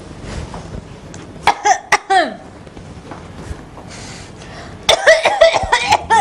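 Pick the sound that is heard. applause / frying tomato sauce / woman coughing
woman coughing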